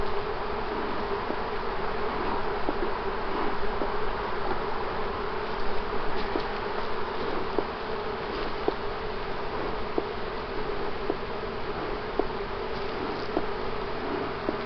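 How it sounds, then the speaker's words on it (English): A dense, continuous drone of a swarm of bees buzzing close by, steady and unbroken, with occasional faint clicks and taps scattered through it. "There's so many bees that they are not moving up."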